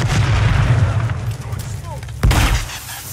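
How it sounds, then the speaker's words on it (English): A bomb goes off during a Call of Duty Warzone match (2023 MW3 era), a heavy booming blast with a deep low rumble under game noise, and a second sharp thump hits near the end. "Oh, someone's got a bomb going up."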